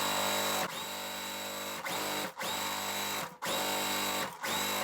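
Sewing machine stitching quilt block pieces, a steady whirring motor run in several bursts separated by short pauses, close and fairly loud with no talk.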